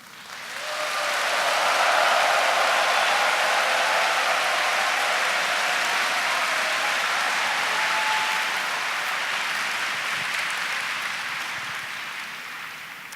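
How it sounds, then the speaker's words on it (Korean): A Korean church congregation breaks into loud, long applause and cheering, swelling within the first second or two, holding as a dense roar, then slowly tapering near the end. "한국 크리스찬들이 보내줄 수 있는 최고의 환호와 박수를 해주시면"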